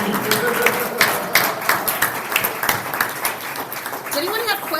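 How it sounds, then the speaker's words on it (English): Audience at a Rotary club meeting claps and cheers, a dense patter of applause with voices rising over it, loud and close, fading slightly toward the end. "Can I get a cheer for you guys?"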